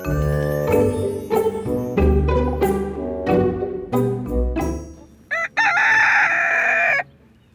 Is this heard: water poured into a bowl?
no